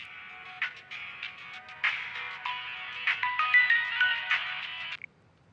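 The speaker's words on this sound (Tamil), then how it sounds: "ஏய் மாப்பிள்ள ஃபோன் அடிக்குது பாரு." A mobile phone ringtone in a Tamil action film plays a bright repeating melody for about five seconds, fairly loud and alone, then cuts off abruptly.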